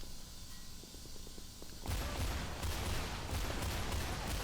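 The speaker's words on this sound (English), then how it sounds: "I'm being shot at" Sustained bursts of video game gunfire in a combat match, a quieter rattle at first and then loud, dense shooting for the rest of the moment, with no talk over it.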